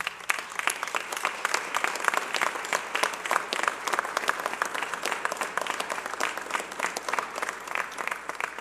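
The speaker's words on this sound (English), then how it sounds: "deserve a huge round of applause" Sustained applause from a crowd at a New Year public safety news event, an even patter of many hands clapping that holds steady throughout at moderate distance, with no speech over it.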